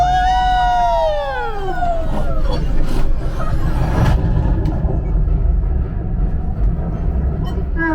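A loud, continuous rumble of a train in the Millennium Falcon: Smuggler's Run ride simulation at Disneyland, with wailing, sliding siren-like tones at the start, steady and close throughout.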